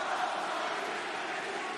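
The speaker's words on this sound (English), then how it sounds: "This crowd chanting for Thunder Rosa." An arena crowd in San Antonio at an AEW St. Patrick's Day Slam 2022 women's title match chants for wrestler Thunder Rosa, a steady, somewhat distant roar of many voices throughout.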